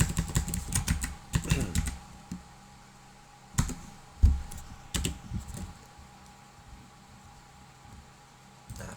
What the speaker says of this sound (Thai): พิมพ์คำว่าเจอด้วยนะฮะ